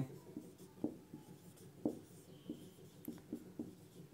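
Pen writing notes during a Class 12 physics lesson on Kirchhoff's laws, a close soft scratching with light rhythmic strokes and small taps, heard alone.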